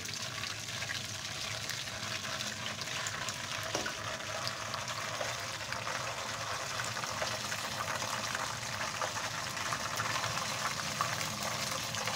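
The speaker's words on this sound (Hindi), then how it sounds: "इसको थोड़ा फ्राई करते हैं ज़ीरे को।" Cumin seeds and round red chillies sizzle steadily in hot oil, a continuous close hiss and crackle that holds at an even level throughout with no talking.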